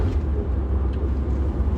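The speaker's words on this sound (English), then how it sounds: "Engine braking." Steady loud low rumble of a car engine braking, heard from inside the vehicle as a continuous deep drone with road noise, no talk.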